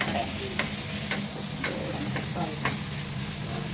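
Spices sauté and sizzle in a pan while cooking kadala curry to go with puttu, giving a steady frying hiss broken by several sharp stirring scrapes at irregular intervals, close and fairly loud.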